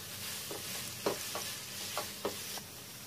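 A spoon stirring rice seasoning with white pepper powder and oregano in a pan, giving soft scraping strokes at an irregular rhythm over a steady low sizzle, close and fairly quiet.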